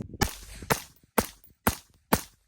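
Five sharp suppressed rifle shots from a mag dump through a HuxWrx Flow 36 Ti titanium silencer, fired at a steady pace about half a second apart, each a loud crack with a short decaying tail.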